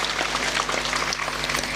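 An audience applauds a Gujarati stage comedy performance with dense, steady clapping that stays loud and even throughout the short burst.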